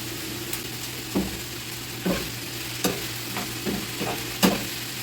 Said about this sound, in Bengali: সব শেষে সিম ভাজি করছি সিমের সাদা ভাজি